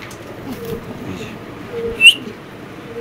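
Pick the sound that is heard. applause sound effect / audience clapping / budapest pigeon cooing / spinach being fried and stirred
budapest pigeon cooing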